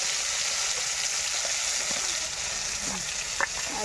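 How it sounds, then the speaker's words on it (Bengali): Whole cumin seeds and a bay leaf sizzling in hot oil, a continuous close crackling hiss with a few small pops near the end and no speech. "ফোড়নের জন্য তেলের ভিতর তেজপাতা দিয়ে দিয়েছি। এখন দিয়ে দেবো গোটা জিরে।"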